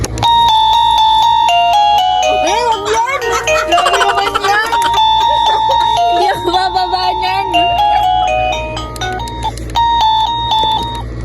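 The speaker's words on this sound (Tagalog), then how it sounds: "Iba't iba nga yung tunog ng doorbell na to meron nakakagulat" A loud electronic chime plays a long stepping melody of clear tones, bright and close, with no other sounds.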